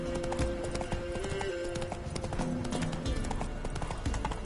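Horse hooves clip-clopping in The Witcher video game, a steady rhythmic trot of close, crisp hoofbeats over a low ambient bed, with a faint whinny-like tone.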